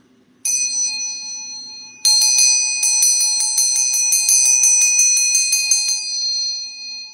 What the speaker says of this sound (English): Let me just ring this bell real quick.